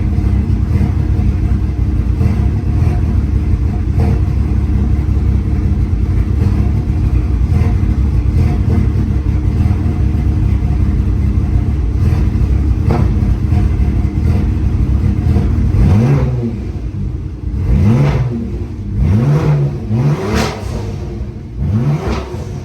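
A car engine with uncalibrated fuel injectors runs at a rough, steady idle, then is revved several times near the end, each rev rising and falling in pitch, loud and close with no talking.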